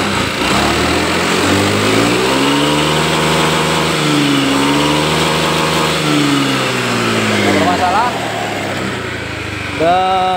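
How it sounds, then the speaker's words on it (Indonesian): A Honda Beat Street scooter engine, previously failing to start and showing fault code 12, runs steadily at close range with a buzzing small-engine drone that rises and falls in pitch, with faint talk in the background. "Kita hidupin motornya."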